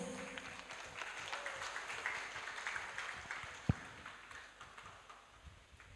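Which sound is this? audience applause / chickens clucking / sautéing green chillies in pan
audience applause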